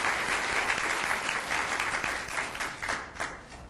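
Warm round of applause from a gathered audience honoring a committee, dense clapping that is fairly close and steady, then gradually thins and fades toward the end.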